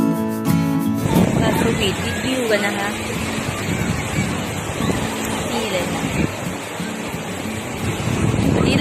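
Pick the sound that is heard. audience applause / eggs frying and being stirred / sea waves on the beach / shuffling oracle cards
sea waves on the beach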